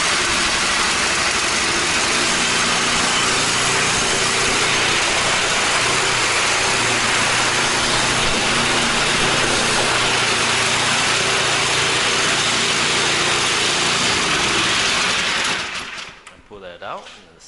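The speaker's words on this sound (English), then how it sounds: "it's real easy to start up. Electric start, very convenient." A Troy-Bilt Squall snowblower with a 208cc electric-start engine runs steadily and loudly at close range, a continuous mechanical roar that holds for about fifteen seconds before cutting off abruptly near the end.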